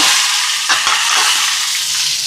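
Fennel seeds and curry leaves tempering in hot sesame oil for sambar, a loud, dense crackling sizzle with a few stirring scrapes, close and unbroken.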